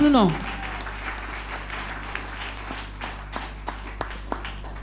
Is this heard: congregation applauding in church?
yes